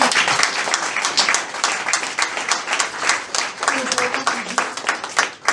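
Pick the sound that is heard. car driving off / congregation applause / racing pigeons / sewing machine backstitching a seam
congregation applause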